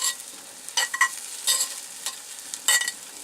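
Eggs mixed with Asiago cheese cook in a pan inside a van, with a faint steady sizzle broken by several sharp scraping stirs of a utensil against the pan.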